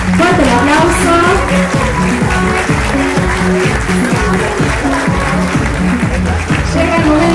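Loud, sustained audience applause at a ceremony naming children's cultural ambassadors in Villa Ángela, dense clapping from a large crowd with music and voices running underneath throughout.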